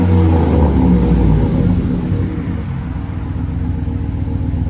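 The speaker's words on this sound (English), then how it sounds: "That's what it sounds like at idle." A Chevy Silverado with a 5.7L V8 idles close by, a loud, steady low rumble that settles slightly smoother after the first second.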